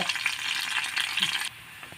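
Garlic sizzles in hot oil for a tempering, a close, steady crackling fry that drops abruptly to a softer hiss partway through.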